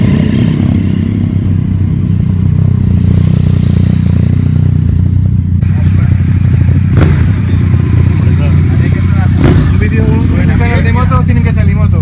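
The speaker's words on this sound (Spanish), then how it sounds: "Le cambió el sonido a la moto total." A motorcycle rumbles steadily as it rides down a mountain pass road, its engine droning loud and close beneath someone talking over it, with wind noise throughout.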